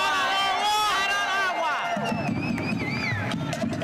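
A large protest crowd outside the US Treasury, a busy murmur of many voices with scattered raised shouts, heard under close talk that dominates the foreground.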